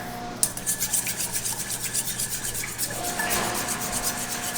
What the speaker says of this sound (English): And we're also going to put in here some red chili flakes. Okay, and then this just gets a stir.